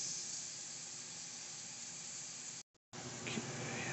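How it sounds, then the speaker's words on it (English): Brussels sprouts searing in a pan with raspberry vinaigrette give a steady, fairly quiet hiss and sizzle, briefly cut to silence near the end before resuming. "now I need to put a little raspberry vinaigrette in there and sear that down too"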